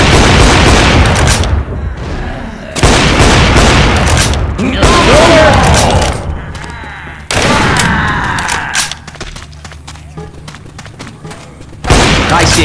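Loud gunfire and heavy booming blasts in the Rainbow Six Siege Outbreak video game come in long bursts separated by brief lulls, with a voice speaking amid the shooting.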